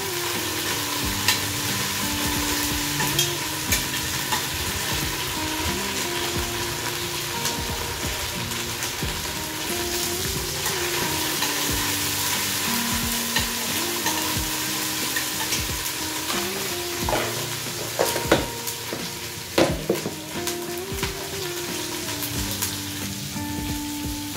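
Garlic paste sizzles steadily in a hot pan while a spatula scrapes and stirs it in repeated strokes, the frying hiss continuous throughout with occasional sharper clacks near the end.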